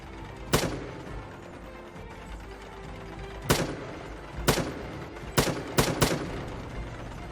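Bomb explosions in the tower defense game Northend Tower Defense: six sharp, loud blasts, one early and then a tighter cluster of five toward the end, over a low background hum.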